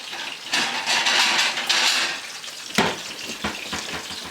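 Salmon sears in a hot pan with a bright, hissing sizzle that swells loudly at first, fades, then flares again in a sharp burst before settling to a softer crackle.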